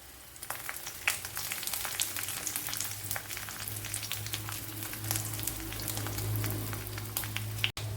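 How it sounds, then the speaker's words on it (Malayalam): Mustard seeds and dried red chillies fry in hot oil for a Kerala-style egg roast, a close, steady sizzle with scattered popping crackles and a few stirring scrapes, with no talk over it. "കടുക് നേരത്തെ ഇട്ട് കൊടുക്കേണ്ടിയായിരുന്നു രണ്ട് വറ്റൽ മുളക് ഇട്ട് കൊടുക്കാം"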